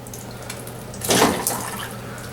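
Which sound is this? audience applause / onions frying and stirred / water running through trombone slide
water running through trombone slide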